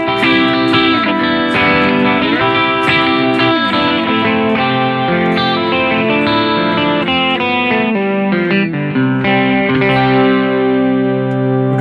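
An electric guitar played through a Johnny Marr chorus pedal on a pro pedalboard, loud shimmering strummed chords and picked notes with a lightly warbling, doubled tone throughout.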